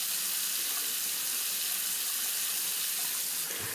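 Steady broadband rush of a water tap running into a sink while a face is rinsed after a straight-razor shave, constant and close, with a brief splash near the end and no talk.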